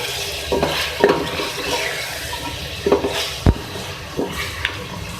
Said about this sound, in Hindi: इसमें मेरे पास है रेड चिली पाउडर, धनिया पाउडर और हल्दी पाउडर और नमक इसमें हम ऐड कर रहे हैं। मिक्स करेंगे।